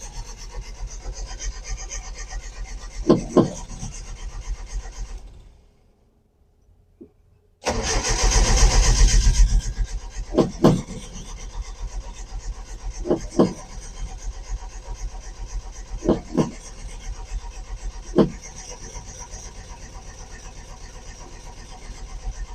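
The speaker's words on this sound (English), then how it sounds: "Let's give it another go. Cold start." A 1981 Datsun 720 engine cranks on a cold start in repeated rasping bursts, broken by a short pause and a louder surge, each attempt close and harsh, without catching.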